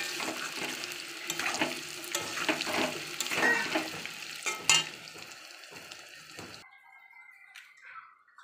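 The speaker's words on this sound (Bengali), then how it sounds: "এখন একটু ভেজে নেব।" Potatoes, first pressure-cooked, fry in a pan for mutton biryani, giving a steady close sizzle with stirring scrapes for about six and a half seconds before the sound cuts away to near quiet.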